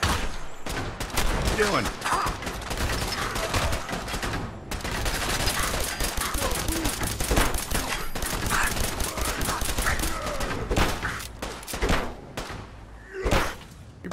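Rapid automatic gunfire in the video game Fallout 4, long bursts of dense shots with brief gaps and a heavy blast near the end, while a voice speaks briefly over it.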